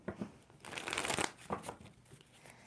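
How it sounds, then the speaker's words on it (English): Tarot cards being riffled and shuffled in quick rustling bursts, with a louder flurry in the middle, close up and with no talking. "2 more shuffles."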